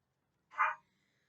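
A single short, sharp bark from a dog, close and clear against near silence.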